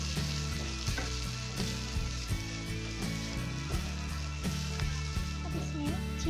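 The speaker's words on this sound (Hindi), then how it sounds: "अब इसको 5 से 7 मिनट तक भूनेंगे लो फ्लेम में। इस तरीके से इसको कंटिन्यू चलाते रहें," Moong dal roasting in a kadhai on low flame while being stirred continuously, a steady close sizzle with soft scraping strokes running throughout over a tonal background, no talk.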